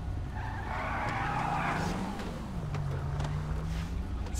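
A Porsche-like sports car skids in GTA 5, tires squealing in a sustained screech with a rising engine note, close and loud with no talking.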